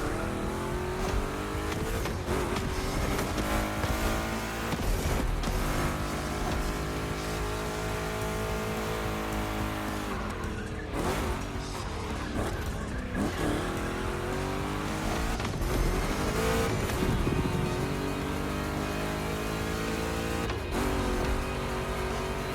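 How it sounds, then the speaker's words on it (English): Two Chevy big-block race cars in The Crew Motorfest roar continuously in a loud, close engine drone, revving up and down through gear shifts, with tire squeal as they corner. "Two Chevys, two big blocks, but only one winner."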